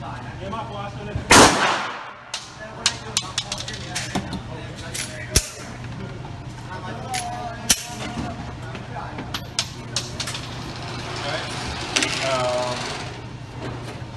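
A Ruger LCP II .380 ACP micro compact pistol fires at a shooting range: a few sharp, loud reports spaced several seconds apart, with faint background noise and some speech between the shots.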